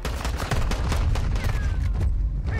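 Gunfire in a video game: a dense, rapid fusillade of shots cracks continuously and loudly throughout, with no clear gaps.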